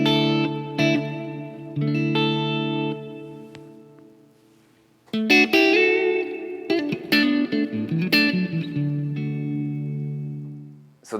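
Electric guitar chords and single notes ring out through a NativeAudio Ghost Ridge multi-reverb pedal, with lush, washy reverb tails, played alone with pauses between phrases.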